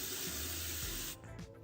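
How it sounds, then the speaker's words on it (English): Lukewarm tap water runs into a sink while a face is rinsed, a steady close hiss that cuts off partway through and leaves faint splashes and drips. "I use lukewarm water to take it off."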